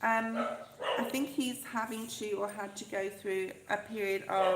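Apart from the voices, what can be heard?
dog barking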